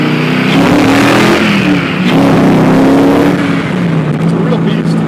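Factory Five GTM with an LS7 V8 revving loudly and close, the engine note rising and falling in sustained throaty pulls without a break.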